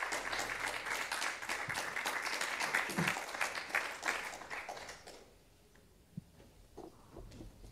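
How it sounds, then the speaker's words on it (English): An audience at a symposium breaks into applause, dense clapping for about five seconds before it thins out to a few scattered claps and quiet room tone. "I would kindly ask for an applause"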